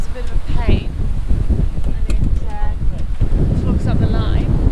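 Strong wind buffets a sailboat cruising in the Grenadines, a loud steady roar of microphone wind noise with water rushing beneath and faint creaks throughout.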